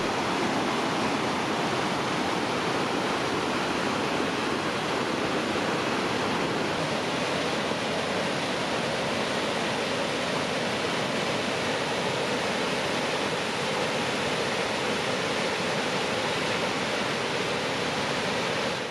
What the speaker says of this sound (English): Leavenworth Creek goes underground about 250 feet west and then re-emerges from this old dig.